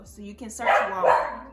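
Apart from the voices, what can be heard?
dog barking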